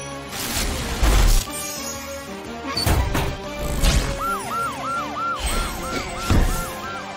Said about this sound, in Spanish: ¡Usemos tus sirenas para despejar el camino!